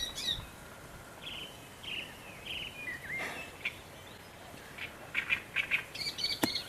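Birds chirp and call in short bursts near a fishing spot by the water, bright repeated tweets scattered over a soft steady background hiss, no talking.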